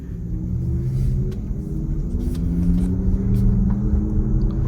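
A 2024 Porsche Macan EV drives along with a steady low rumble and faint whine of its artificial driving sound, continuous and fairly loud inside, no talking.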